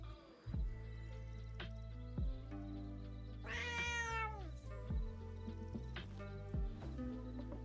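Several cats meow in a video game, with repeated meows over a steady musical background and one rising, squealing caterwaul in the middle, plus soft clip-clop hoof sounds.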